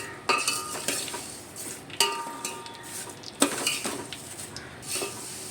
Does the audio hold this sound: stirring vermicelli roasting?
yes